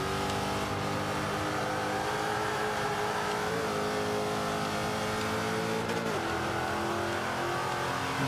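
A Range Rover revs hard in Forza 5 on the Indy GP circuit, its engine droning steadily and loud with pitch shifts as it changes gear, holding a continuous roar with no talking.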